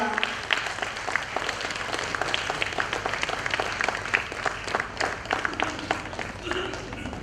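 Audience applause at an International Women's Day event, a looser, thinner round of clapping with distinct individual claps standing out and some voices mixed in.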